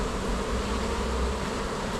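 Bees swarm around a bin during a removal, a dense, continuous buzz that holds close and steady throughout.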